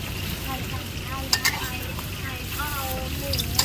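A Thai omelette fries in a pan with a steady sizzle and occasional stirring clinks, while voices chat faintly in the background.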